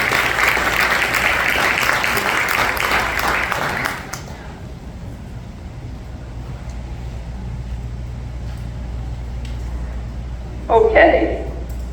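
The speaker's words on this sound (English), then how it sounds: "give a round of applause to the people who are willing to" A crowd at a candidates' meeting applauds loudly for about four seconds, then the clapping cuts off into a quiet room hum, followed by a brief murmur of voices.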